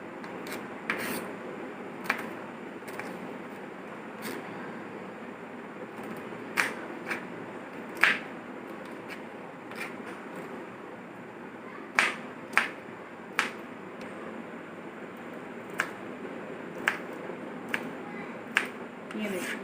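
Large green chillies being chopped into pieces with a knife: faint, scattered sharp clicks of the blade striking the board, irregularly spaced over a soft, steady background hiss.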